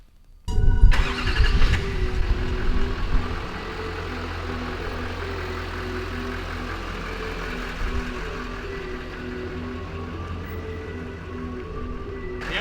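A pickup truck with a diesel exhaust fluid check engine light cranks and fires up, a loud burst settling into a steady low engine idle and rumble that continues as it begins to move, faint speech briefly present.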